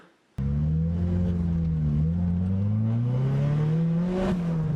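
A turbocharged Nissan 240SX engine on a drifting run, loud and close, its revs climbing and dipping in a continuous high-revving drone after a sudden start.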